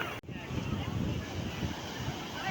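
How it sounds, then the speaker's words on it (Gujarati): High-tide sea waves rolling in under strong wind, a dense, loud roar of surf and gusts buffeting the microphone with no pause. "આ દરિયાની ભરતી આવી જાય ફૂલ ગાંડો."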